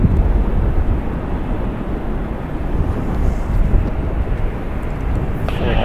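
An Alaska Airlines Boeing 737-900ER airliner arriving at San Francisco International Airport gives off a steady, broad jet roar that holds loud and constant throughout, with no voices.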